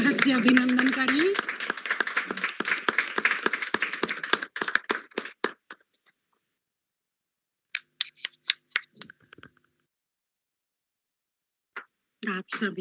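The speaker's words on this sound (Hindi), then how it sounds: "तालियों की गड़गड़ाहट से अभिनंदन करें।" Participants in an online international Hindi e-conference clap to welcome the chief guest. A few hands patter quickly at first, then the clapping breaks into short, sparse bursts separated by silence.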